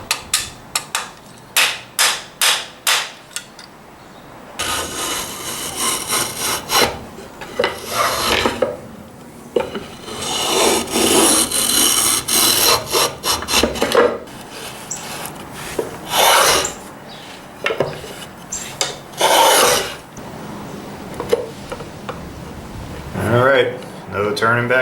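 Hand tool rasping and chiseling a truss rod channel into a square wooden neck blank for a shamisen-style bass guitar, starting with sharp tapping strikes, then long rough scraping strokes in bursts, close and loud.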